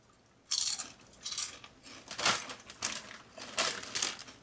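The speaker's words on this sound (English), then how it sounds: "But just listen to the crunch." Crisp, repeated crunching of Siete queso kettle chips being eaten, a vegan dairy-free potato chip fried in oil, with several loud close bites and chews in irregular rhythm and no talking.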